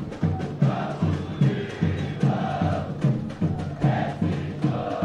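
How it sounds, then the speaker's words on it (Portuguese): Unidos do Picerno supporters make noise at the Copa Metropolitana 2019 football final at the Centro Esportivo. A steady crowd roar pulses with rhythmic beats, heard from a moderate distance. "É a torcida do Unidos do Picerno. Faz a sua festa aqui no Centro Esportivo."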